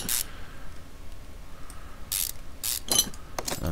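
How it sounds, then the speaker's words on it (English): Rapid ratchet clicking in the Car Mechanic Simulator 2015 video game as screws are removed at a car's wheel, several short bursts of mechanical ratcheting over a low background hum, with no talking. "Let's remove the screws."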